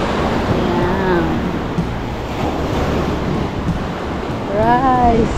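Strong sea waves surge and wash continuously with wind buffeting the microphone, while a voice speaks over the steady roar of the surf.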